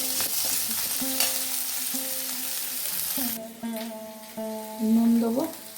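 Potatoes stirred in a frying pan for a snack recipe, with a hissing sizzle and repeated scraping strokes of a utensil against the pan, loud and close, with a voice speaking briefly over it.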